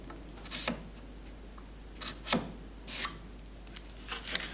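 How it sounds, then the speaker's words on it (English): A chisel is drawn backwards at a steep angle along the wood grain, giving several soft, brief scraping strokes spaced apart over a quiet steady hum. "Another technique is to draw the chisel at a steep angle backwards along the grain."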